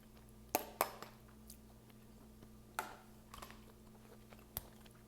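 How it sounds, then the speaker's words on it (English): Chewing a bite of Meati mushroom steak, a handful of soft, wet crunching bites scattered over a few seconds, close to the mic over a faint hum. "I was chewing a little bit too much."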